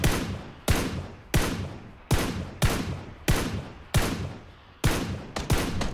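Loud, evenly spaced single gunshots in the battle royale game PUBG, about nine sharp reports each trailing off into a reverberant tail, with no talk.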